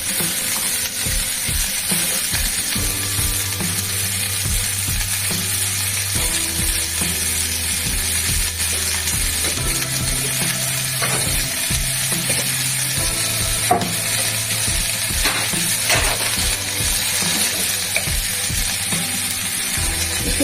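Shrimp and potatoes with green chili, salt and turmeric fry in a pan, a constant sizzle overlaid with repeated scraping and clattering strokes of a spatula stirring, close and fairly loud, with no talking.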